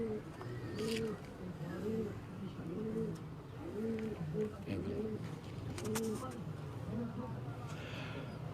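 Banded pigeons cooing on a rooftop, a repeated series of soft rolling coos at a steady rhythm against low background noise, with people talking faintly nearby.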